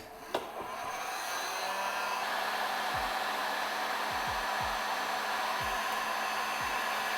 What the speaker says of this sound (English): first step I'm going to do is just to remove old heat shrink. So I'm going to use heat gun.